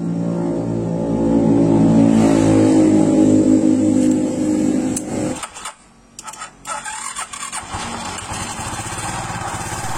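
Car engine started after a pulley repair runs loud and revs, its tone slightly rough, then drops to a quieter idle with scattered clicks and rattles close by.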